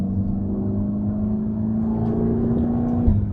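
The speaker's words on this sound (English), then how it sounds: "even in 6th gear, giving it quarter throttle, it just pulls" A hand-built twin-turbo V8 in a Mercedes-AMG GT Black Series pulls steadily in sixth gear at quarter throttle, a loud continuous drone that holds an even pitch before dipping near the end.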